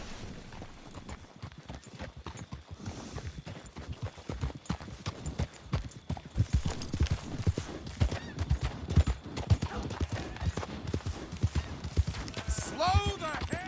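Rhythmic horse hooves in the video game Red Dead Redemption II clip-clop steadily at a trot, growing louder, with a brief whinny near the end.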